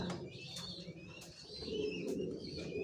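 A black racer pigeon of a long-face Janssen line sits on its eggs in a loft, giving soft, low, repeated coos under faint background chirps from other birds.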